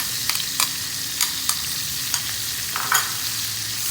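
Shallots and garlic sautéing in melted butter for kampung-style fried rice, a steady bright sizzle with sharp clicks and scrapes of stirring every half second or so, with no voices.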